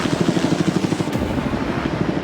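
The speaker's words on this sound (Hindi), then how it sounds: "ये हेलीकॉप्टर हमारे बॉयज को ऊपर हवा में ले जाएगा" A helicopter hovering close over a private island, loud rhythmic rotor thumping steady throughout with constant engine roar.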